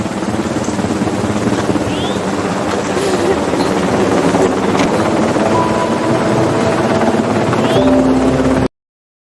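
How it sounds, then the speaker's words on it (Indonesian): A helicopter's steady rotor drone fills the scene, loud and close, holding a constant roar throughout before cutting off abruptly. "helikopter datang untuk menolong mereka"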